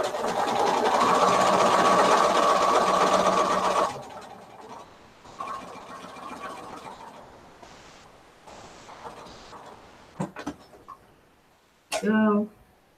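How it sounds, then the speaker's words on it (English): Sewing machine running a second seam on quilt scraps, a steady loud whirring hum for about four seconds, then quieter handling noises and a couple of short bursts of stitching later. "Now I'm going to give it all a second seam right inside the first seam."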